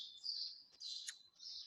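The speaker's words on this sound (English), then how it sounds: "There's a bird chirping." A small bird chirps in a quiet winter setting, giving high thin continuous tweets with a couple of sharp accents, moderately near and alone.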